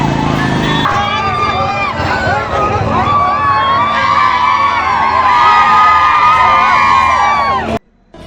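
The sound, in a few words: party workers cheering and celebrating an election win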